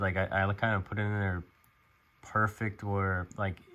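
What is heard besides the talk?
No everyday noises stand out.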